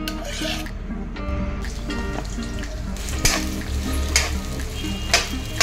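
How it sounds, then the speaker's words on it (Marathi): Oil heating in a hot kadhai while prawn masala is cooked at home, steady frying sizzle with scraping and stirring clatter, close and fairly loud, no talk. "आपली कढई आता गरम झाली आहे, त्यात मी हे 4 ते 5 चमचे तेल सोडते।"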